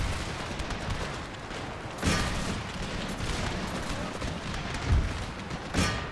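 Musket and cannon fire in the video game Empire: Total War during a siege battle, a steady roar of battle noise punctuated by three louder volleys or blasts, no talking.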